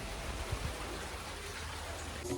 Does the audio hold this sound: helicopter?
no